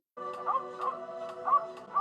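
A dog in a TV drama gives four short, fairly close yipping barks in quick, uneven succession, each a brief bright burst over a low background.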